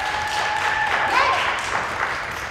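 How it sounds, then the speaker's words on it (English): An audience at a pre-K through 8th grade school winter concert claps for the student soloists, a steady wash of applause with a faint sustained tone running through the first second. "Clap for them."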